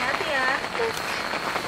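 Rain falls on a camping tent during a family camping trip, a soft steady patter under nearby talking.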